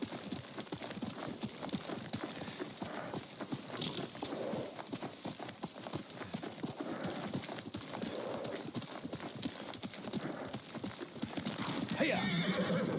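Hooves clip-clop steadily as a horse moves in the video game Ghost of Tsushima, with a whinny rising near the end, all under spoken dialogue and game ambience.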